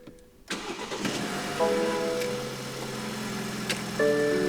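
A BMW car engine cranks and catches, then settles into a steady idle. It is heard from close by and fairly quiet, with a few faint clicks and electronic tones over the running engine.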